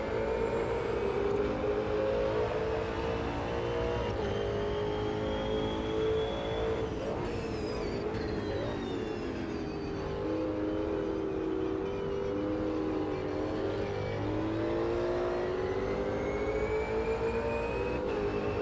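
An Ultima GTR race car in Automobilista 2 screams at high revs along the Termas de Rio Hondo circuit, a steady loud engine drone rising and dipping through gear changes.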